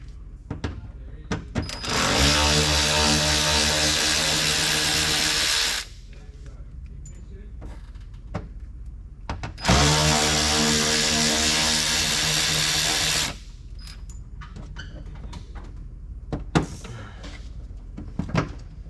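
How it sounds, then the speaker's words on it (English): A power drill backs small screws out of a Dodge Challenger during a mud flap install, two sustained whirring runs of several seconds each, separated and surrounded by clicks and handling noises. "go ahead and get these little screws out"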